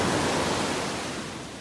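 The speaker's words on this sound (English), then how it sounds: "Listen to those waves." Ocean waves breaking on a beach in North Naples, Florida on a morning walk, a steady broad wash of surf that fades slightly over a short stretch, with no voices.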